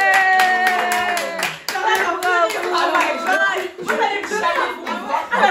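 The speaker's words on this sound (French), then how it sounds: "Moi, je pense qu'il faut applaudir" Hands clapping in applause among a small group of French-speaking friends at a hotel, the claps steady and fairly close, mixed with lively overlapping voices and laughter throughout.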